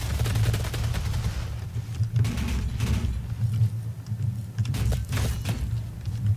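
Rapid automatic gunfire from a minigun in the video game DOOM, a dense, continuous loud barrage with a heavy low rumble and sharp bursts spiking throughout.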